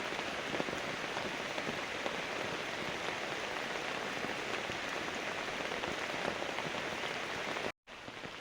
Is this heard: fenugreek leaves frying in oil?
no